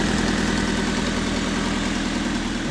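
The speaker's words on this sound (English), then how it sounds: "Just let it sit there and idle. She's alive. Oh, I hear an exhaust leak." An idling car engine with an exhaust leak runs close and steady, with a fast rhythmic ticking pulse in its low drone and no voices over it.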